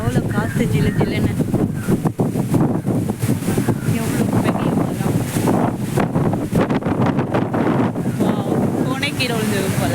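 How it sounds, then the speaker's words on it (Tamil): Strong wind roars across a seashore and buffets the microphone in a dense, constant rush, with voices partly buried beneath it. "கீழே விழுந்து போல அந்த அளவுக்கு காற்று."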